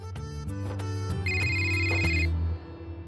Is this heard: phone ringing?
yes